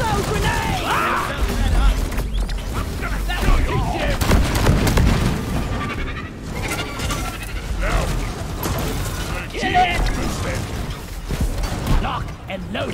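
Video-game firefight with a thrown grenade blast and bursts of gunfire, dense and loud throughout, with mechanical clanks and shouted voices mixed in.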